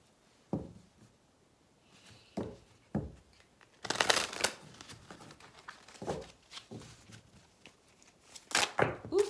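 Tarot cards being shuffled and handled close by, with quiet riffles and taps that build into denser, louder shuffling bursts separated by short pauses.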